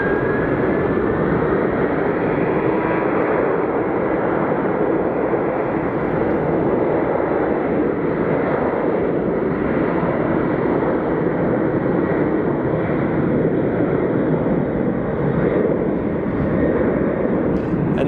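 Continental-livery airliner at Phoenix Sky Harbor Airport, its engines roaring steadily and loudly for the whole stretch, a broad sustained jet rumble with a faint rising whine early on and no voices.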